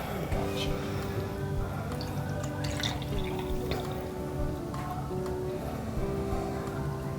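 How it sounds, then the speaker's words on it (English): Water being poured into a drinking glass for a density experiment, heard as soft trickling and dripping over several seconds with a faint background hum. "we're going to put water about 3/4 of the way, about right here, up in the glass"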